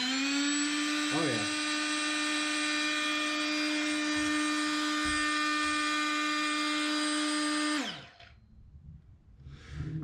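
Metabo HPT oscillating multi-tool running at a steady high-pitched whine for several seconds, then winding down and stopping, with a short spoken remark over it.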